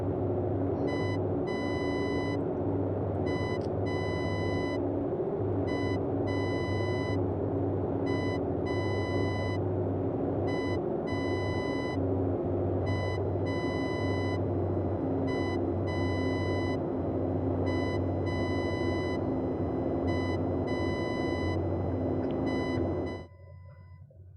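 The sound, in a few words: Morse code navigation beacon in video game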